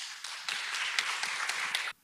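An audience claps to welcome a guest speaker at a university worship service, a dense continuous burst of applause that stops abruptly after about two seconds.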